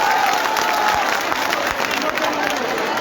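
A large crowd at an outdoor BSP political rally in Morena applauds, a broad continuous roar of clapping and crowd noise, loud and sustained, with a few low thumps.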